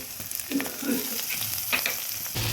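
A spoon stirs garlic and onion paste with ground spices such as cumin, coriander, red chili and turmeric in a hot pan, giving soft sizzling with irregular scraping strokes, close and moderately quiet.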